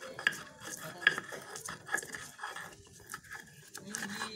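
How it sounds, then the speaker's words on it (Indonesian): Chili, palm sugar and garlic ground by hand in a stone mortar (ulek) for gado-gado, a quiet close sequence of irregular knocks, scrapes and crunches with small clinks. "Ya, udah mulai diulek teman-teman."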